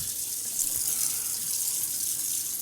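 Tap water runs steadily into a sink as a face is rinsed with cold water after shaving, a continuous soft hiss and splash at close range with no talking.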